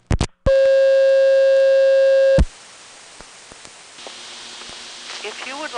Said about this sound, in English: the number 5 crossbar, when it goes to permanent signal